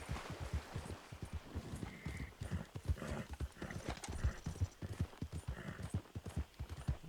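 Horse hooves clip-clopping at a galloping rhythm in Red Dead Redemption 2, with a brief whinny, close and fairly quiet throughout.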